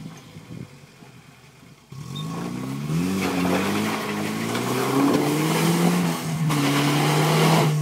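A car engine revs and climbs in pitch while taking a turn off-road, starting after a quieter moment and holding a steady loud drone to the end.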